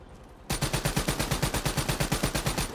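Rapid automatic gunfire from a Black Ops 3 video game match, a loud steady burst of evenly spaced shots starting abruptly and running continuously to the end, with no talk.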